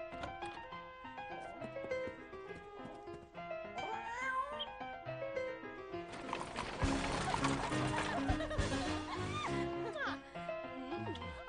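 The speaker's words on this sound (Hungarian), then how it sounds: "csak a macska rosszalkodott egy kicsit, és megette a kanárit" A cat meows and yowls several times, mixed under people talking and music in a scene about a soldier's quarters.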